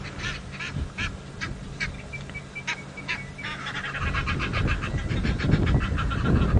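Egyptian geese honk and cackle in a burst of repeated harsh calls at a waterside during an evening safari drive, the calls growing denser and louder toward the end over outdoor background noise.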